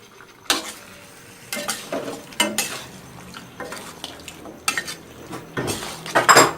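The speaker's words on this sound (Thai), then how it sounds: "เราก็จะผัดต่อ ให้มันค่อยๆแตกมันทีละนิดนะครับ" Thai red curry chicken is stir-fried in a pan: a spatula clatters and scrapes against the metal in irregular bursts over a faint low sizzle, close and without talk.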